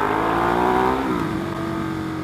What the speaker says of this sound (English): God damn, my exhaust is loud in your mic.